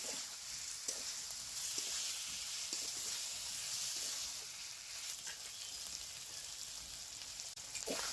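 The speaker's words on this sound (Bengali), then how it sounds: "লাউটা কষানো হয়ে গেছে" Bottle gourd sautés in a hot pan, with a constant close hissing sizzle and occasional soft stirring taps, and no voices.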